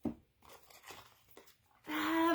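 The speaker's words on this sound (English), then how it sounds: "So I'm gonna start shuffling." Tarot cards are shuffled during an indoor Halloween party: soft, faint handling noises come first, then a louder, brief riffling burst at the end.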